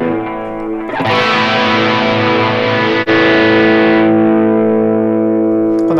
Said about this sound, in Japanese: ちょっと歪ませましょうか。 クランチで。